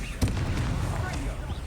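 Incendio fire spell cast in Hogwarts Legacy combat: one sharp, loud burst that trails into a dense, steady roar of noise lasting the rest of the moment.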